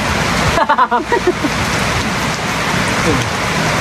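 Heavy rain pours down in a constant dense hiss, loud and near, with a few brief voices over it at the start.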